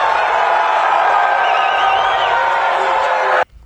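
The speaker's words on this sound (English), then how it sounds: "See, you have libertarians there booing" Crowd at a Libertarian Party convention booing loudly, a dense sustained roar of many voices with scattered yells and whoops that cuts off abruptly at the end.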